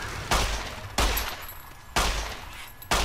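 Four heavy, evenly spaced gunshots from the Fallout New Vegas video game, each a sharp loud crack with a decaying tail, about one second apart and alone without talk.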